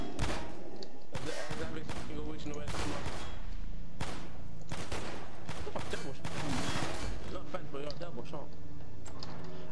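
Repeated gunfire bursts from Garry's Mod in a zombie survival mode, loud sharp shots in uneven clusters across the stretch, with people talking over them.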